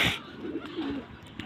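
Laldum pigeons cooing close by, a low throaty coo rising and falling over about a second after a brief higher note at the start.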